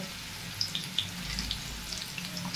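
Sliced bitter gourd (korola) and potatoes fry in oil in a pan, a steady close sizzle with small crackles and pops scattered throughout.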